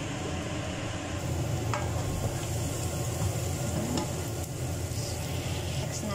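Garlic sizzles steadily in a hot pan for sauteed asparagus and mushroom, a dense continuous frying hiss with occasional stirring scrapes, close and fairly loud.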